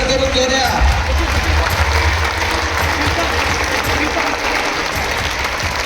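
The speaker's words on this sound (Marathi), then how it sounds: "विद्यार्थ्यांनी जोरात टाळ्या वाजवल्या" Students clap loudly with their hands raised, a thick, continuous burst of applause that holds steady throughout, with a voice speaking over it.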